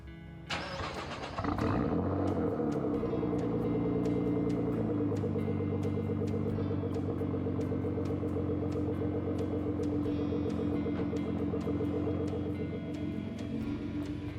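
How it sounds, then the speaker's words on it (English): A Nissan GT-R R35 cranks over and fires up, its engine catching with a loud rise and then settling into a steady, rumbling idle heard up close for over ten seconds. "fire up the car"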